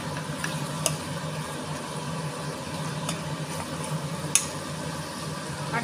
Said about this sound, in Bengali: এবার সব কিছু মশলা দিয়ে ভালো করে মিশিয়ে নেব।